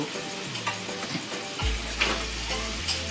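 Goat meat sizzles and fries steadily in a spiced masala, with a sharp burst of louder sizzling as the meat hits the hot pan partway through, close and continuous with no talking.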